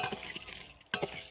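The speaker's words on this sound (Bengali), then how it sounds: "আমি হালকা নাড়াচাড়া করে নেব চালটাকে" Rice is stirred in a pot for payesh (rice pudding), making soft scraping and shuffling strokes that are quiet and close, with a brief pause and then a firmer stir near the end.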